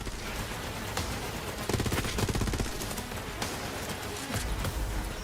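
Rapid automatic gunfire and explosions from the video game Borderlands 3, loud and nearly continuous with dense bursts of shots layered over a steady game background.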